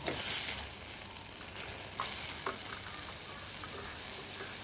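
Tomatoes and green chillies fry in a little butter in a pan, giving a close, steady sizzle with soft stirring scrapes and small crackles, and no voices.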